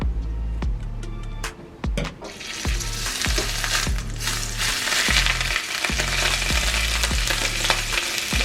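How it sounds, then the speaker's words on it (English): Beef short ribs sizzle loudly and steadily in a hot pan, with a dense hiss punctuated by sharp clicks and taps of utensils. "Sizzle."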